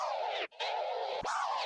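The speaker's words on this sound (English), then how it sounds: "the drop scratch sounds like this" A DJ performs drop scratches on a turntable sample, three long sweeping scratch strokes with a brief gap and a sharp downward pitch dive between them, close and clear with no talking.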